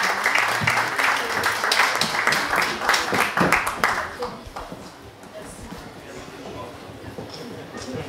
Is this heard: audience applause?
yes